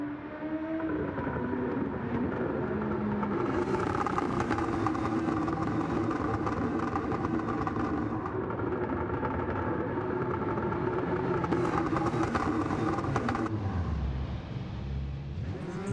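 Onboard engine sound from a 2016 Lexus RC F GT500 race car in Gran Turismo 7, a loud, sustained harmonic drone that holds at high revs, then drops sharply as the throttle lifts near the end.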